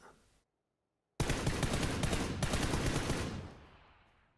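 Rapid automatic gunfire from a rifle in PUBG bursts in after a brief silence, a dense run of loud, close shots lasting about two seconds before fading.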